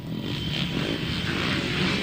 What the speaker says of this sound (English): as they rev those bikes up